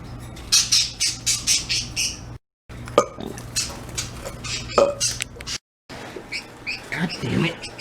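Pet bird squawking in rapid, repeated harsh calls, loud and close, in a series of bursts broken by short silences.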